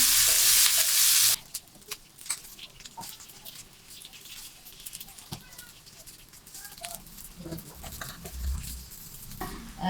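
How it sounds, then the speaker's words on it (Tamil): Red chilies and curry leaves sautéing in a pan for masala dosa, a soft crackling sizzle with scattered stirring clicks that runs steadily and fairly quiet, after a brief louder burst at the start. "ஒரு 5 சிவப்பு மிளகாய், கருவேப்பிலை, கறி லீஃப் நல்லா வதக்குவேன்."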